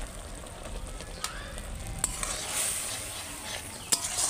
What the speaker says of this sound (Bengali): পোস্তটা আমার ফুটে গেছে, এবার আমি বেগুনটা দিয়ে দেবো।